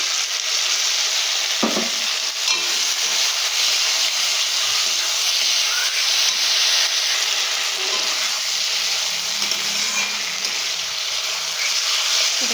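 A white vegetable curry with water cooks down in a pan. A loud, continuous bubbling hiss and sizzle carries on steadily throughout, with a few faint stirring touches.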